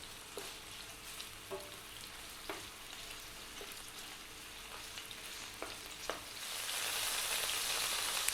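Chunky pieces of pork fry in a pan over medium heat, a soft steady sizzle with occasional sharp pops and stirring scrapes, growing into a louder hiss toward the end, close and quiet.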